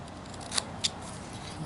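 A carving knife slices into wood while shaping a carved figure, giving two short, crisp cuts close by over a quiet background.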